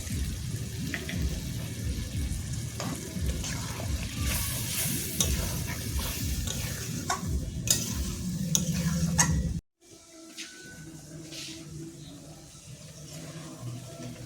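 Lota fish, Bombay duck, frying and being stirred in a pan for curry, with steady sizzling and scraping stirs that stop abruptly, then a quieter, softer simmer.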